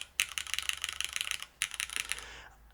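Rapid keyboard typing in two bursts with a short pause between, crisp clicking keystrokes close up, no voices.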